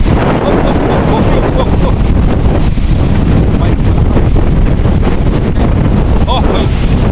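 Strong gusting wind buffets the microphone at sea during a storm, a loud constant roar with splashing waves and boat noise, and voices calling out briefly underneath.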